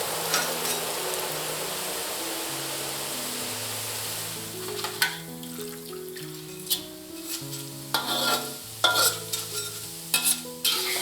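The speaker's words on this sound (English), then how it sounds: "Put the noodles and fry until golden brown and flip it once." Hot oil sizzles and crackles steadily as noodles deep-fry until golden and crispy, with occasional stirring clatter and background music playing softly underneath.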